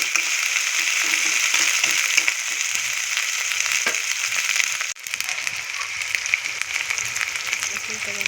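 Chopped cumin and chicken bones frying in hot oil, a bright continuous sizzle and crackle with occasional scraping stirs and a sharp clank near the middle, fairly close and steady from start to finish.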